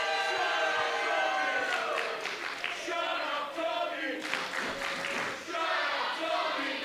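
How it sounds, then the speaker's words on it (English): Wrestling crowd reacting to Tommy Hellfire with shouts, jeers and scattered claps, a rolling mass of voices that swells and dips across the arena, moderately distant. "Crowd letting Tommy Hellfire know how they feel."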